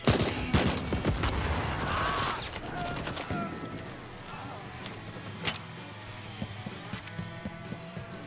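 A grenade blast in the video game Deathloop, with a loud burst of explosive noise at the start, followed by scattered gunfire cracks and clattering impacts.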